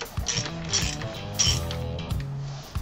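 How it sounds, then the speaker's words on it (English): Primary chain tensioner being removed from a Harley-Davidson motorcycle during stator replacement: close, quiet metallic clicks, creaks and ratcheting mechanical sounds in short bursts, with no talking. "I'm going to take the tensioner off of here"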